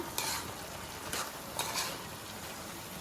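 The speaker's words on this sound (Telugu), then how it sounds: "ఆ పౌడర్స్ అన్నీ బాగా అన్ని పీసెస్ పట్టేలాగా బాగా మిక్స్ చేసుకోండి." Chicken pieces stirred with coriander and other spice powders in a pan, giving soft scraping strokes and faint sizzling at a low level, with a few brief spoon clinks and no talking.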